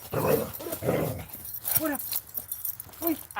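A young puppy growls and yips in short bursts close by, with small jangling and handling noises as it plays and nips at a hand.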